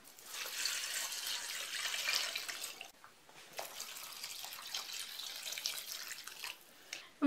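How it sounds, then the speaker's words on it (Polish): Water poured from a tap into a soup pot for oxtail soup, a splashing, gurgling stream that runs steadily, pauses briefly, then resumes with shifting fill sounds. "I całość teraz zalewam wodą."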